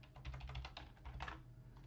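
Rapid keystrokes on a computer keyboard, a quiet run of uneven clicks over a low steady hum, with no talking.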